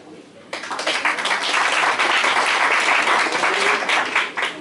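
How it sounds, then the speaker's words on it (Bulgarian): Audience applause at an event nominating a candidate for mayor of Cherven Bryag, with loud sustained clapping that swells in after a brief quiet opening and holds steady to the end. "Успех, успех и нашите аплодисменти"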